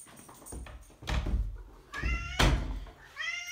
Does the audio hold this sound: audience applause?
no